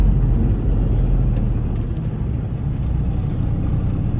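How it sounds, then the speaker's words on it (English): A car on a city road in Kansas City rolls past with a broad, steady low rumble of tires and engine, fairly loud and continuous throughout. "There comes another car."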